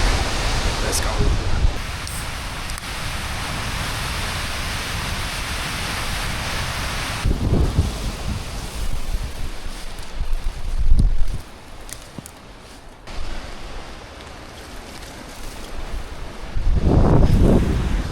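Strong wind roars across the Ruahine Ranges in New Zealand, a loud, broad rushing that buffets the microphone in gusts and swells, with brief voices breaking through now and then.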